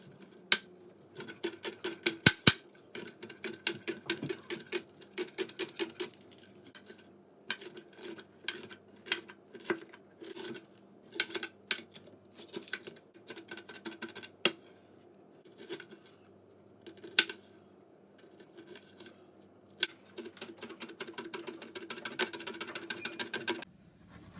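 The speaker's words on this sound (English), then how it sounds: "So I've chopped everything up. This here is the ginger." Ginger and herbs are chopped for a green seasoning, with quick bursts of crisp knife taps on a board, some fast and clustered and some scattered, close and fairly quiet, with no voices.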